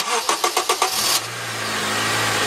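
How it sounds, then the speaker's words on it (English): A Honda car engine with a freshly replaced water pump and refilled coolant cranks in a rapid run of starter bursts, then catches and settles into a steady low idle, close by with no talking. "we're going to go ahead and start the engine"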